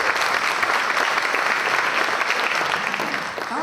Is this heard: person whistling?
no